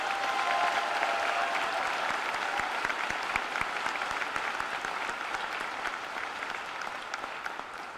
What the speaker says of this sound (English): Please join me in a round of applause for all of our honor and recognized students